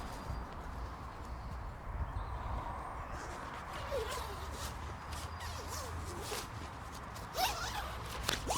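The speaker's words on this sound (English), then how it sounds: "So I'll just zip it up to give you a quick idea of what it looks like once it's" The zipper on the bug net of an Amok Draumr 5.0 hammock is pulled closed in a long continuous rasp outdoors, with a few quicker zip strokes near the end and faint birdsong in the background.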